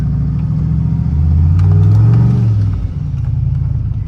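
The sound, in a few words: truck exhaust roaring with cutout open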